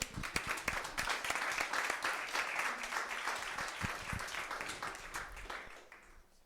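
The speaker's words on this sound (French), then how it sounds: "On peut l'applaudir?" Audience applause following a talk on the Holy Spirit at a French church gathering, dense steady clapping from a nearby crowd sustained for several seconds before tapering off at the end.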